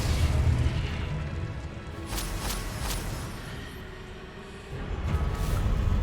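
Spell explosions go off in the Hogwarts Legacy video game during combat, with deep booming blasts and brief bright crackles over a steady rumbling game soundscape. No one speaks.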